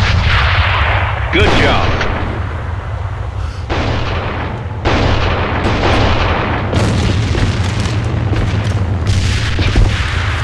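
Grenade explosions and dense gunfire in the online shooter game Ava: loud, continuous booms and bursts of shots fill the whole stretch, with a player briefly speaking over the din.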